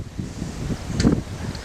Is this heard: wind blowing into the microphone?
yes